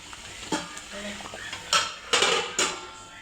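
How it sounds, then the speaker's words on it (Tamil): Ginger and garlic sauté in a pan for crab gravy, a low sizzle under several sharp scrapes and clanks of a metal spoon against the pan, spaced irregularly and fairly close. "இஞ்சி பூண்டுலாம் போட்டு வதக்கியிருக்கேன்"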